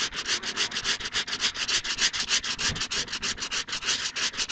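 Stain remover being rubbed into fabric by hand, a fast regular scrubbing of quick back-and-forth swishes, close and steady throughout with no speech.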